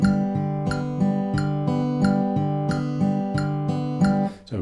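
A backward banjo roll is picked on a guitar as a steady, repeating cycle of bright plucked notes in even rhythm, close and clear. It ends with a brief scrape of the strings.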